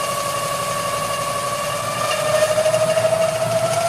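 An engine idling near 700 RPM is pushed with a throttle override toward a runaway: a steady drone with a tonal whine that climbs slowly in pitch and grows louder partway through.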